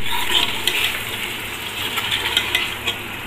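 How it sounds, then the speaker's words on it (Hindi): Diced capsicum goes into frying keema and gets stirred in a pan. Steady loud sizzle carries throughout, with repeated scraping and stirring clicks from a spoon and no talk. "अब इसमें शिमला मिर्च डालेंगे।"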